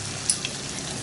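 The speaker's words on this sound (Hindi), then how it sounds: "अब मैं इसमें अदरक लहसुन का पेस्ट डालूंगी।" Chicken frying in a pan after ginger garlic paste goes in for a curry: a steady, close sizzle with a dense hiss and a couple of small crackles.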